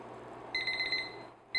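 A kitchen timer beeps in a rapid high-pitched pulsing run during stovetop cooking, stops briefly, then starts beeping again, over faint background hum.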